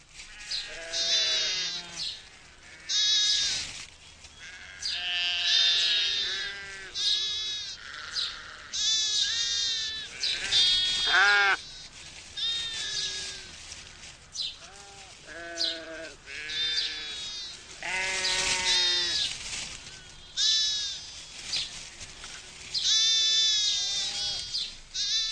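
Sheep ewes bleating during lambing on a British farm in spring, repeated wavering calls from several animals, some loud and near, others softer, overlapping with brief pauses between them.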